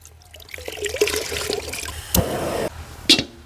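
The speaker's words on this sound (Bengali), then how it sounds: "মিনারেল ওয়াটার ভালো করে পরিষ্কার করে নেব চুস্তাগুলোকে ভালো করে পরিষ্কার করে নেব" Water runs and splashes while mutton chusta (intestines) are washed with mineral water, a fairly close trickle with a couple of louder sudden splashes and faint background sounds.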